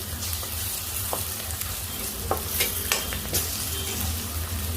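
Onions with ginger garlic paste frying on high heat in a pan for a village-style chicken curry, a steady close sizzle broken by a few sharp scrapes and taps of a stirring spoon.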